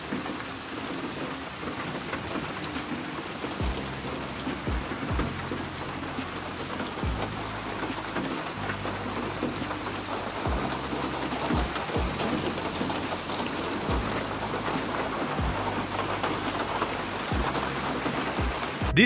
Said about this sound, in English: I'm going to play some sound of some rain.